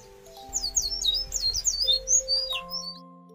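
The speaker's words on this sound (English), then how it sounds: "The nightingale forgave Ming and sang its sweet song once more." Songbird singing in a palace setting: a quick series of bright, sweet chirps and rising whistled phrases, fairly close and clear, over soft sustained musical tones.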